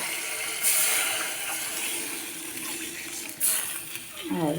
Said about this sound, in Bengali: এখন জলটা দিয়ে দিব